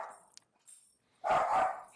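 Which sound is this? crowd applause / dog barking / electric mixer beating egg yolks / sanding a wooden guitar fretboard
dog barking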